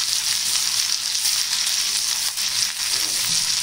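Oil tempering with garlic paste and spices crackles and hisses over a low flame for gongura chutney, a steady, close, unbroken sizzle with no voices.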